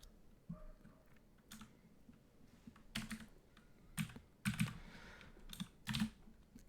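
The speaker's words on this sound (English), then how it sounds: "Cat walked over all over your keyboard." A cat walks across a computer keyboard, setting off scattered clusters of soft clicks and key presses at an uneven, stepping pace, quiet and close.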